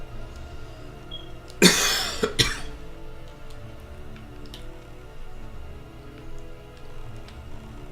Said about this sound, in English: Coughing a little bit right now